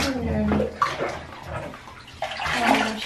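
Water splashes and sloshes in a bathtub as a puppy gets its first bath, with bursts of splashing under a voice talking and cooing nearby.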